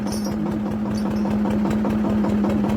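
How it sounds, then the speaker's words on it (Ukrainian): A steady, throbbing T-25 tractor diesel engine runs close by, its low chugging pulse even and unbroken throughout, with no voices. "Це ж трактор, мусить тягнути."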